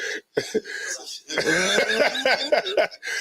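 Several harsh coughs in quick bursts, close up, mixed with throaty, laugh-like sounds, in a room with incense smoke.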